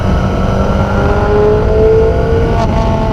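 Yamaha FZ1 motorcycle engine running loud and close with a steady drone and a slight rise in revs, a continuous rumble with no talk.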